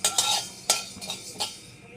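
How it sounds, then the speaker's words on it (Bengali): Whole coriander seeds being stirred in a pan while frying for Mughlai chicken, a spoon scraping in several separate sharp strokes with light sizzling between them, close and clear. "ধনেটা কিন্তু একটু বেশিক্ষণ নেড়ে নেওয়ার পরে আমি অন্য মশলাগুলো দেব।"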